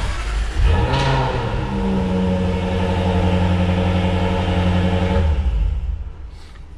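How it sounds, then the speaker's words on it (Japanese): A Jaguar F-Type SVR sports car engine fires up with a loud, deep exhaust roar at cold start that holds a steady high idle for several seconds, then quickly dies away. "特有のちょっと排気音というか大きい排気音しますので"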